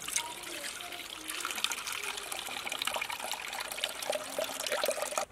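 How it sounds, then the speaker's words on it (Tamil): Boiled milk poured into a kitchen vessel, a continuous liquid trickle and splash with small bubbling variations, close and steady for several seconds without talk. "பால் நல்லா காய்ஞ்சிருச்சு, இப்போ வந்து ஒரு பாத்திரத்தில் ஊற்றிக்கிறேன்."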